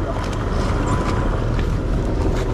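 A motorboat runs on open water with its engine roaring steadily, loud and close under heavy wind buffeting and splashing, with no clear talk.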